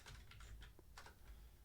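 Fast, faint clicking of computer keys being typed on, a quick irregular run of light taps with no voices.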